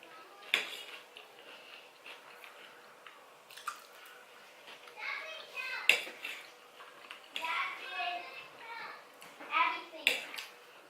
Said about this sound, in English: And hear kids roaming around.